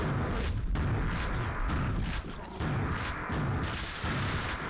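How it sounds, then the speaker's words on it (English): Gunfire in a video game cutting down snakemen in their lair, a series of loud booming shots spaced about a second apart, close and punchy against a steady rumbling background with no speech. "Perfect amount of shots to kill everything."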